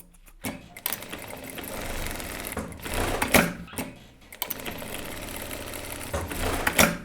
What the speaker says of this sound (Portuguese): Então, eu vou costurar as laterais.